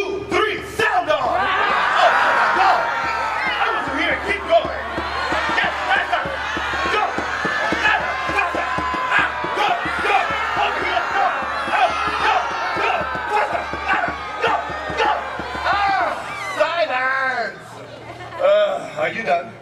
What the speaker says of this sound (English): I want all of us to sound off together with your most prominent war call